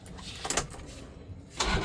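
Toyota Kijang diesel family car, engine already warmed up, cranking and catching into a rough diesel start near the end of a short stretch of low mechanical noise, close by with no speech.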